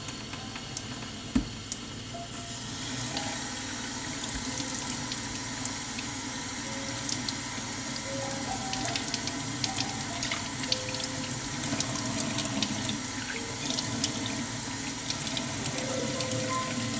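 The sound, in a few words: rinsing hands under running tap water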